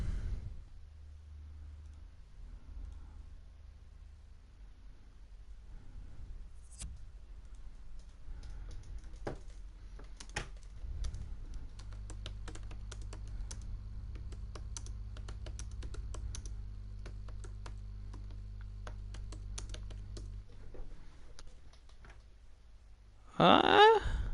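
Rapid, uneven keystrokes from a computer keyboard clatter through the middle stretch, close and moderately loud over a low steady hum from a FIFA 17 game session, with no talking.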